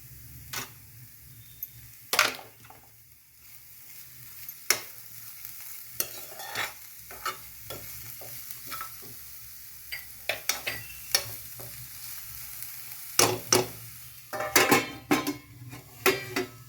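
Chopped onion being stirred in a pan with salt, spoon scrapes and clinks against the metal over a low steady sizzle, scattered sharp knocks at irregular intervals, close and moderately loud, no voices.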